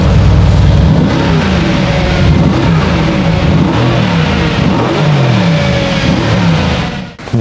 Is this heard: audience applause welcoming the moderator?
no